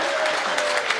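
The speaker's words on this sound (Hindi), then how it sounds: "बजाओ ताली, हाथ उठाकर एक बार जोरदार।" A short burst of crowd clapping at a Hindi poetry performance, brisk and fairly loud, with a faint tone running underneath.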